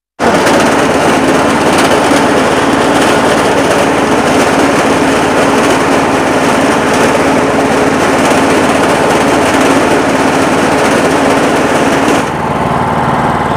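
Engine-driven fodder cutter reaper machine for wheat, maize, sorghum, millet and rice running with its reaper engaged, a loud continuous rattling engine roar that holds steady and eases slightly near the end.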